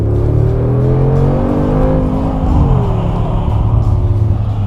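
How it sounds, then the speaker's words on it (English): Cabin view of a 2018 Mercedes-AMG G63's 4-liter biturbo V8 with 585 horsepower, a loud, steady engine drone rising in pitch under acceleration and then easing back, heard continuously from inside the car. "This one offers a 4-liter V8 biturbo engine offering 585 horsepower, which sounds great even from inside the car."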